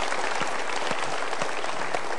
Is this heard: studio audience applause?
yes